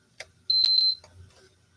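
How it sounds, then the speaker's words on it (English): An electronic device beeps during a PS5 HDMI port replacement setup: one clear high-pitched beep of about half a second, preceded by a faint click, in a quiet room. "Why are you beeping at me?"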